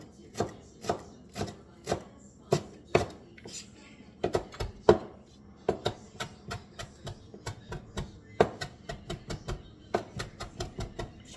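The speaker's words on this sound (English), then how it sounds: "I like to chop this pretty fine." A knife chops cilantro finely for homemade guacamole on a cutting board, with about two dozen crisp, evenly paced knocks that come close and clear.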